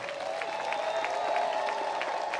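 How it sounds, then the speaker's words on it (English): A crowd at an outdoor statue unveiling claps steadily, the dense patter of many hands sustained at moderate distance, with a faint tonal hum running underneath. "Let's clap it up for them."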